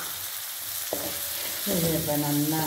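Tomatoes sautéing in a pan while making a pumpkin gravy, a steady close sizzle with stirring throughout, growing louder and fuller toward the end, with a few spoken words over it.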